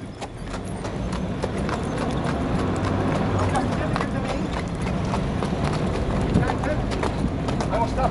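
Rhythmic clip-clop of a young Arabian colt's hooves pulling a cart across open ground, a steady unshod beat continuing throughout over a constant rumbling background.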